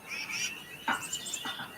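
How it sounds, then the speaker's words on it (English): Faint bird chirps and short calls come from outdoors, a few high tweets scattered over a quiet background. "turn down the birds outside"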